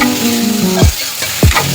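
Tomato is added to a hot pan with tamarind for a soya bean dish, giving a sizzle and frying hiss with two scraping stirs of a spoon close by, and no talk.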